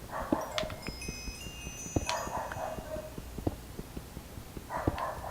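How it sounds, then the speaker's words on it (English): Leo, a pet dog, lets out three separate barks a couple of seconds apart, set back slightly from the microphone, with faint clicking and tapping in between. "If you can hear my dog barking right now, I'm sorry."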